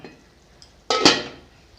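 Lid lifted off a pot of vegetable and prawn curry with long beans and okra: a faint tap, then a sudden bright metallic clink and scrape that fades over about half a second.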